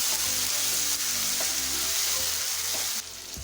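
Chopped tomatoes and onions sauté in hot oil in a pan for a Coimbatore-style chicken gravy, giving a steady, close, loud sizzle with faint stirring scrapes that drops slightly in level toward the end.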